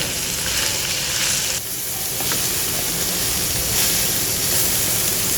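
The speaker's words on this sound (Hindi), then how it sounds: "ये तो इनको पकाएंगे, अच्छी तरह से फ्राई करेंगे सब्जियों को" Onion, green chillies and vegetables frying in a pan for Chinese fried rice, a loud continuous sizzle and hiss with a few stirring scrapes, heard alone.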